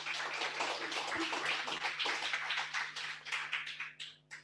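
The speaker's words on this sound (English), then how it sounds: "give this team a big round of applause" An audience claps for a team at a hydrogen manufacturing industry event, a dense, steady round of applause that tapers off toward the end, with a faint steady hum underneath.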